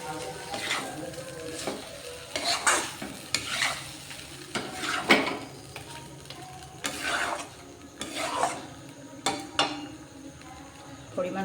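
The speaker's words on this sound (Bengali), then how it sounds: "চিকেনটা এর উপরে দিয়ে দিলাম, এবার মশলার সাথে ভালো করে এটাকে কষিয়ে নেব।" Chicken stirred and fried with spices in a pan for chicken kosha: a spoon scrapes and rubs against the pan in repeated strokes over a soft sizzle, close and fairly loud, with pauses between the stirs.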